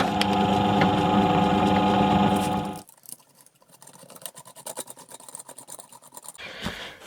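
A drill whirs loudly through a 3mm hole for guitar pickup bolts, then cuts off abruptly, followed by quieter scraping and tapping handling noises nearby.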